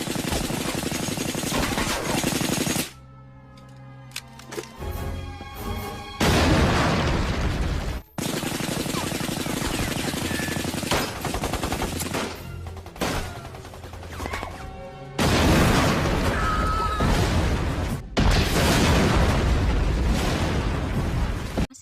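Loud, rapid bursts of explosions and gunfire rage in waves, broken by brief lulls with a low rumble before the blasts resume.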